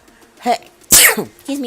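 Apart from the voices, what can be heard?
sneeze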